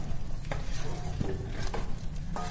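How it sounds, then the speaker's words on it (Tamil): Chicken gravy is stirred in an iron kadai, a spoon scraping and knocking against the metal every second or so over a steady low bubbling simmer, close and moderately loud. "இது நல்லா கலந்து விட்டுக்கோங்க"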